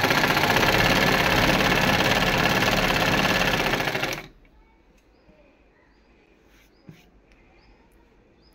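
A domestic sewing machine stitches a dress in a steady, loud continuous whir for about four seconds, then stops abruptly, leaving a quiet room with a few faint clicks.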